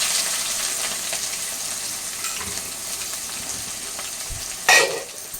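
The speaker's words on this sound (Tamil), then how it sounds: "வெங்காயம் வந்து நல்லா வதங்கணும்" Onions sizzling and being stirred in a hot pan for a Tamil-style green peas and yam gravy, a steady close frying hiss throughout with a brief louder spatter near the end.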